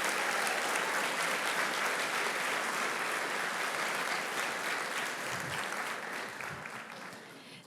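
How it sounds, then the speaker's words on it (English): An audience at a school board meeting applauds students with sustained, dense clapping that holds steady and then gradually tapers off near the end. "Let's give a round of applause to our awesome students."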